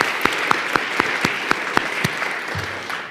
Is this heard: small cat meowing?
no